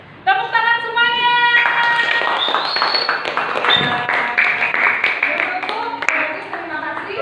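A class of students claps after a group presentation about the planets, with scattered clapping mixed with lively voices calling out.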